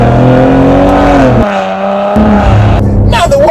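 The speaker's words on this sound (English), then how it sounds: "You get a sweet blip coming from the exhaust at the back as you accelerate up through this." Exhaust of a 2016 Cadillac ATS-V accelerating hard through the gears, loud and close, with rising engine pitch, a brief drop at a shift, then a sharp blip as revs climb again.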